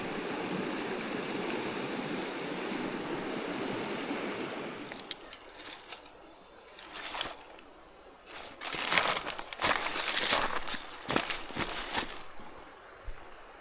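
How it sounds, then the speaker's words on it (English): A small, fast-running stream rushes through a canyon, a steady close gush of water that thins out midway, after which sharp crinkling and rustling bursts break over the quieter flow. "wide, flat river turns into this little stream right here"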